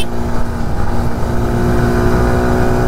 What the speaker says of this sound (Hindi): फुल थ्रॉटल, इन पतली पतली सड़कों पे TVS Excel with full throttle